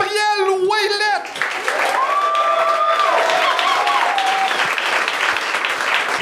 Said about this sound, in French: On accueille avec un tonnerre d'applaudissements Gabriel Ouellette.